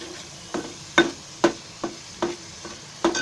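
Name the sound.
spice masala roasting and stirring in oil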